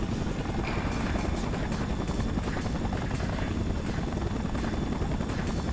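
In the Spider-Man 3 video game, a helicopter drones with a loud, steady rotor thrum that holds throughout without a break, dense and close.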